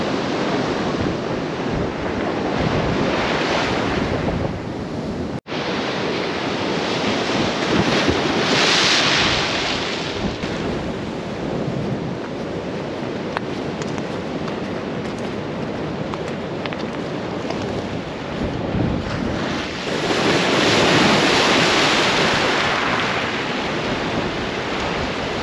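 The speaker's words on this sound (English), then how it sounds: "Give it another minute and we'll go see some big rollers come back in and probably start washing this road right away." Storm waves pounding in on Lake Erie beside a road, a loud continuous roar of surf that swells and recedes in big rollers, with heavy wind buffeting the microphone throughout.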